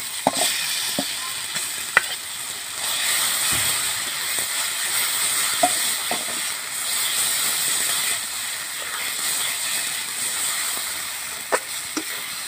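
Homemade spice paste for a village-style matar paneer sizzles in a hot pan, a steady close frying hiss with a few sharp crackles and pops scattered throughout and no talking.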